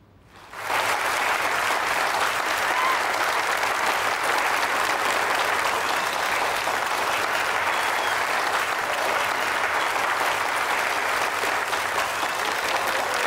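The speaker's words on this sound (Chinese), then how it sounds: "让我们再一次响起祝福的掌声。" Wedding guests at the close of the ceremony burst into sustained, dense applause. It starts suddenly and holds a steady, loud clapping for over twelve seconds with no talk over it.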